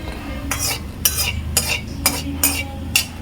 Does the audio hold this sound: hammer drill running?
no